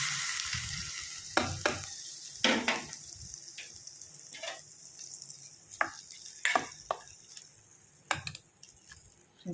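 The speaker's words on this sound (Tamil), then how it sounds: "கடுகு நல்லா பொரியுது" Mustard seeds for beetroot chutney spluttering in hot oil, a series of sharp sizzling pops over a soft frying hiss, with occasional stirring scrapes and no talking.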